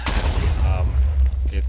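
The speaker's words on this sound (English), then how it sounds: "It's a little hand grenade thing, and you just throw it and it explodes." A hand grenade explodes in the video game Minecraft, one loud, close boom that rumbles and fades over a second or so.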